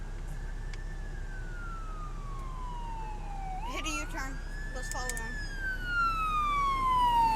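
A fire truck siren, engine 12, passes along an Austin street, wailing in slow rising and falling sweeps with brief horn-like bursts, heard at a moderate distance under traffic hum while people talk.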